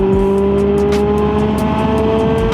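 A Subaru Impreza STI S203 engine roars loudly and steadily at high revs from inside the car as it accelerates through a bend, with a faint rhythmic ticking over the drone.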